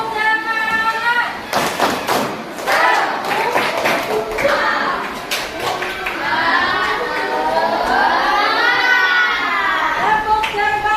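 Classroom of children doing a rhythmic clapping chant: sharp claps in quick patterned bursts, loud and close, mixed with the children chanting together and a teacher's voice.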